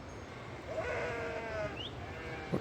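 A large flock of sheep bleats in the hills, a few soft, wavering calls carrying from some distance over a quiet outdoor background.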